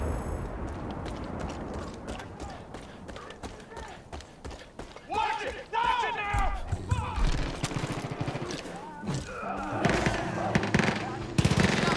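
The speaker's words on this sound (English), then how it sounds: "Machine gun!" Rapid machine gun fire in the Far Cry 5 video game, rattling bursts mixed with game mechanisms and effects, while a player talks over the action throughout.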